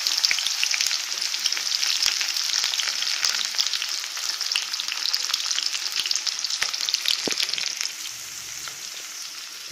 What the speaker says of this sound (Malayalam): പിന്നെ ഇതിലേക്ക് എണ്ണയിലേക്ക് നമ്മൾ ഉള്ളിയും പച്ചമുളകും